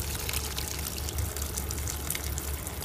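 A mini brushless 12V DC pump, model JT160, runs submerged in water, giving a steady churning, splashing wash of moving water with a low hum underneath that holds at an even level throughout.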